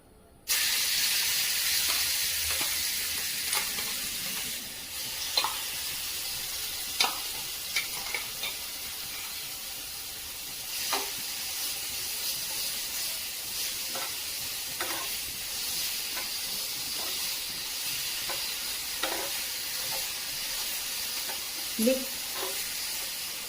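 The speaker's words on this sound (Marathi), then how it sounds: "मस्तपैकी हा मिरचीचा ठेचा गरम करून घेऊया" Green chili thecha is sautéed briefly in a pan for a homemade Maharashtrian meal, giving a steady broad sizzle with occasional clinks and scrapes of stirring, moderately close and with no talking.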